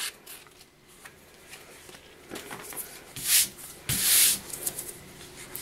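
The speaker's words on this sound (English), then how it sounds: "you can always take a sanding block" Soft scratchy rubbing of a sanding block against an edge, with a few louder strokes near the end.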